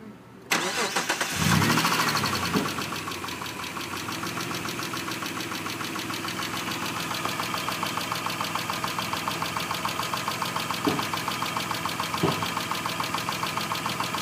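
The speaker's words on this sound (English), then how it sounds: "Jeremy, start this engine for me." A 2000 Mitsubishi Eclipse with a 3.0 liter engine cranks briefly and fires up, then settles into a steady, close idle with a faint rhythmic ticking and occasional small clicks.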